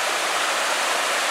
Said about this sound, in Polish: I wodospad w Parku Oliwskim, obok zaraz palmiarni.